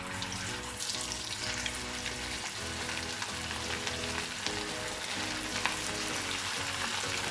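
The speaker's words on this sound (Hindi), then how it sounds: "अब इसमें कबाब डालेंगे आहिस्ता से।" Chapli kebabs frying in about a quarter cup of hot oil in a pan, giving a steady, close sizzle with crackling bursts and faint stirring sounds, no talking.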